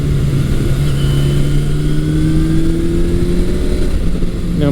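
A 1982 Suzuki GS750E motorcycle engine drones steadily on a test ride after a restoration, loud and close, its pitch rising gradually as the bike accelerates through a gear, with constant wind and road roar underneath.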